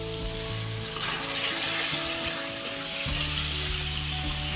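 A spice paste with tomato sizzles and fries steadily in a pan, a constant bright hiss with faint stirring scrapes.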